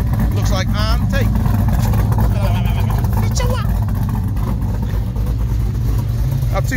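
Loud, continuous roar of a VY Commodore with an LS1 V8 running straight pipes with no muffler, dense low rumble throughout with voices talking over it.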